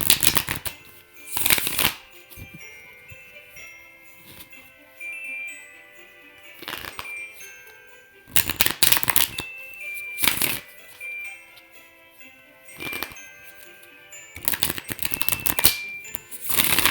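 Playing cards shuffled for a tarot reading: several loud bursts of riffling and snapping cards spaced a few seconds apart, over soft tinkling background music.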